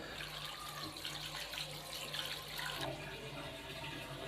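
Running tap water splashes steadily over about 200 grams of vermicelli being rinsed before going into a pot, a continuous close wash of water with no voices.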